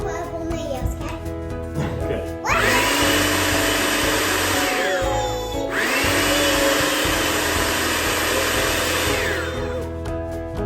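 Graham crackers and sugar are ground in a food processor, the motor whirring loudly in two long bursts with a brief pause between, beside a kitchen hum; someone speaks faintly at the start.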